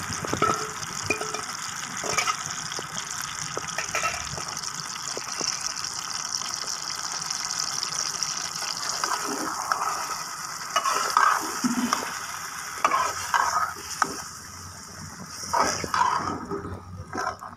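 Beef liver sizzles and fries in a tomato masala while being stirred, a steady bubbling hiss with scraping and clinking from the stirring spoon throughout, and no talking.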